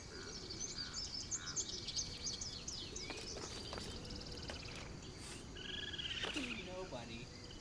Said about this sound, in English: You hear the bird chirps, don't you?